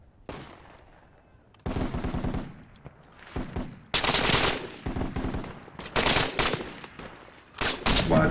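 Gunfire in the military shooter Project Reality: loud bursts of automatic rifle and machine-gun fire come close and in stuttering clusters, with sharp single cracks and short pauses between volleys and occasional distant shots.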